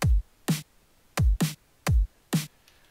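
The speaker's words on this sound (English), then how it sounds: "we'll make a pretty basic drum and bass pattern" A basic drum and bass drum pattern built in Fruity Loops: punchy kick thumps alternate with bright snare cracks in a steady, clean loop, alone with no voices.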